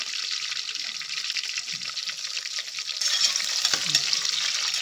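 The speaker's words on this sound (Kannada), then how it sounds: "ಈಗ ಈರುಳ್ಳಿ ಹಾಕ್ಕೊಳ್ತಾ ಇದ್ದೀನಿ. ಈರುಳ್ಳಿ ಸ್ವಲ್ಪ ಕೆಂಪು ಫ್ರೈ ಮಾಡ್ಕೊಳ್ಳೋಣ." Sliced onion fries in hot oil in a pan already holding fried mint and coriander leaves for tomato bath. A steady, dense sizzle plays close up and grows a little louder partway through, with faint stirring scrapes and no voices.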